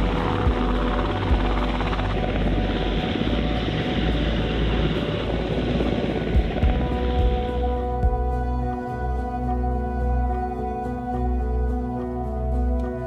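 A recovery helicopter carrying astronauts back to the ship after splashdown drones loudly and steadily, a thick rotor and engine roar that holds constant throughout with no speech.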